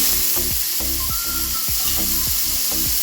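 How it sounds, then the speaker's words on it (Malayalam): Tomatoes cooking in coconut oil in a small pan, a steady bright sizzle broken by regular scraping strokes of a spoon, close and alone. "ഈ തക്കാളി ഒന്ന് വേവിച്ചെടുക്കണം നമുക്ക് കുറച്ച് വെളിച്ചെണ്ണ ഒഴിച്ചിട്ട്"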